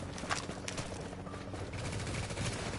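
Gunfire in the shooter game The Division as the player's character takes hits: a faint, continuous crackle of rapid shots, distant and fairly quiet, running throughout.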